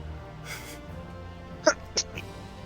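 A single sharp sneeze bursts out briefly over quiet background during a live game stream, followed by a smaller second sound shortly after.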